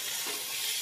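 Ground coriander, cumin and turmeric fry in a pan for a dried fish curry, giving a brief soft sizzle.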